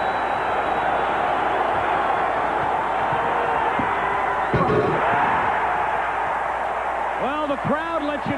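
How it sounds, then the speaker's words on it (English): A basketball arena crowd roars steadily and loudly after a slam dunk at the 1988 NBA Slam Dunk Contest, a dense sustained cheer with whoops, and a commentator speaks over it near the end. "Well, the crowd lets you know what they think of it."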